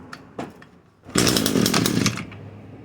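Echo PAS-225 two-stroke engine revving to full throttle after a few short sputters, then holding a loud, close, buzzing roar for about a second before easing off.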